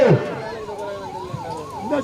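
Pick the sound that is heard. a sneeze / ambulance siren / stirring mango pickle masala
ambulance siren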